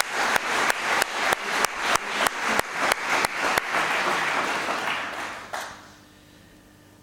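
An audience gives a round of applause: a series of sharp, evenly spaced claps in unison, then a dense burst of clapping that fades out abruptly into quiet room tone.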